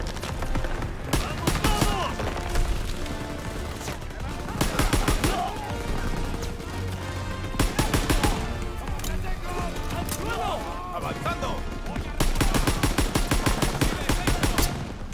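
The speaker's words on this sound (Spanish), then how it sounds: "pega un tiro y luego otros 3-4 seguidos" Rifle gunfire in the World War II shooter Call of Duty WW2, with bursts of sharp shots separated by pauses, loud and close, while a player talks through the action.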